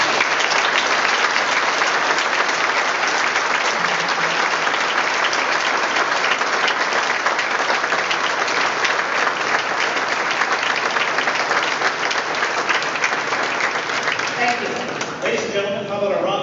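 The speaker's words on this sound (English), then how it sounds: "Can we give them another hand?" Sustained audience applause at a mayoral debate in Regina, a dense, steady wash of clapping from a large crowd that continues without a break and thins only slightly near the end.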